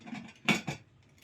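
A pressure cooker lid is closed, giving a few quick, faint metallic clinks and knocks over about a second, with two sharper clacks in the middle.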